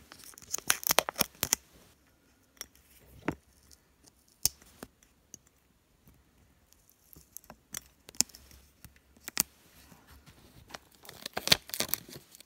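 Vinyl decal is picked and peeled with a weeding tool while crafting stained-glass-style designs for mason jars, giving sparse close scratchy ticks and crinkling peels scattered over quiet.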